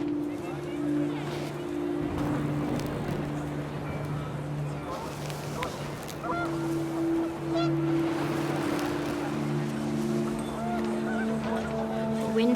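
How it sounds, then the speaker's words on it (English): Panicked geese honk in the video game What Remains of Edith Finch, repeated calls over a steady windy, tonal game background with continuous talk running underneath. "The wind picked up and panicked geese appeared and quickly went."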